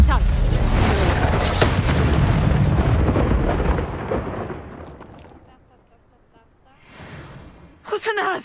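A Reducto blasting spell goes off in the video game Hogwarts Legacy: a loud, rumbling explosive burst that rolls and slowly fades over several seconds, followed by quieter sounds and a brief voice near the end.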